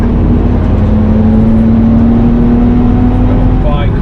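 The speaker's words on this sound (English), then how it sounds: "This GTR past us. Skyline's not going to hang around, is it?" A Nissan Skyline GTR passes on the Nürburgring, its engine drone steady and close under a constant broadband roar from the cabin of the car being overtaken, with the pitch rising slightly as it goes by.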